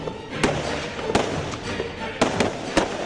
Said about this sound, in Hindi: धनाधन गोलियां क्यों चला रहे हैं ये जवान